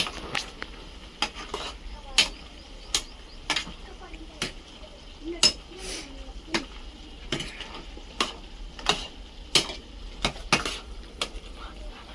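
A spoon scrapes and knocks against a pan in sharp, irregular strikes while chicken fry with turmeric is stirred over a faint sizzle.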